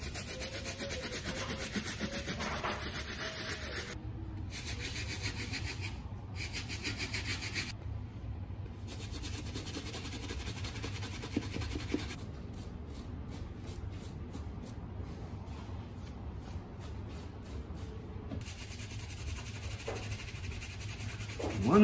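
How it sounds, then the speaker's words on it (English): A cloth wipes and scrubs a shoe treated with RESHOEVN8R shoe cleaner. The rhythmic rubbing strokes are close and soft, grow quicker in the second half, and play without any speech. "Take your cloth and you just wipe it away."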